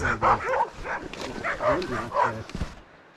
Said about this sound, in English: The dogs sang us Christmas carols.